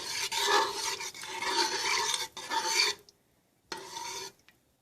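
A spoon scrapes and rasps steadily against a pot while ground turmeric is stirred into a vegan dumpling soup, close and fairly loud for about three seconds, then a pause and a shorter burst of stirring with no talking.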